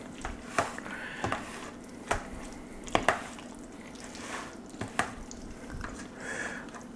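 Pre-cut vegetables are stirred into food inside an Instant Pot electric pressure cooker, giving soft, wet squishing and scraping sounds with a few clicks of the utensil against the pot, close and fairly quiet.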